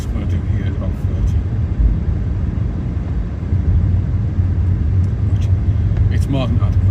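Car engine and tyre rumble rising gently as the vehicle picks up speed on a country road near a reservoir, heard from inside the car under steady talk from the driver.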